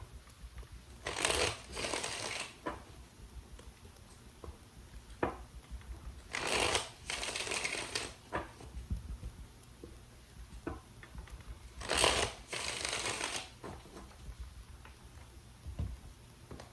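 Tarot cards are shuffled in three separate bursts of brisk, papery riffling and flapping, close and fairly quiet. Soft handling sounds and faint ticks fall in the pauses between the bursts.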